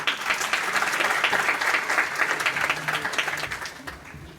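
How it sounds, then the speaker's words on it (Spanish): Audience at a psychology and sexual diversity talk in Quito claps warmly, many hands in a dense burst that stays strong and then begins to thin out toward the end, with no speech on top. "Un aplauso."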